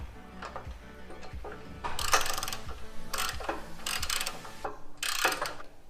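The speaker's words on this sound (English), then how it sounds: "now we're tightening these bolts" A ratchet tightens bolts on a rear bumper being installed on a Jeep JL, with quick clicking strokes in several bursts separated by short pauses, close and fairly quiet, no talking over it.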